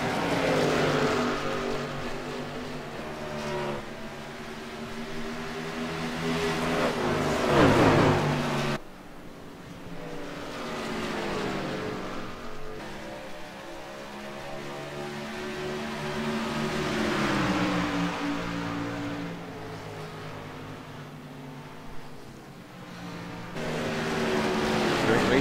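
Race car engines in a PC sim racing game drone and whine continuously, pitch sweeping up and down as cars shift and pass, loud and close throughout, with a brief dip and a commentator's voice under the engines.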